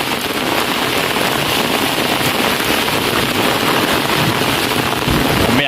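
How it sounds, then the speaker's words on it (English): Heavy rain pours steadily in Trinityville, a dense, loud, unbroken hiss of drops on surfaces with some wind noise against the microphone, lasting throughout without any voices. "Rain, rain, rain."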